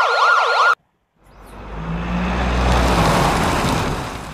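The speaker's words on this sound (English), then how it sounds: "AMBULANCE. Ambulance." Ambulance siren wailing loudly in rapid rising and falling sweeps for under a second, cut off abruptly, followed by a brief silence and then a low rumbling vehicle drone that swells and holds.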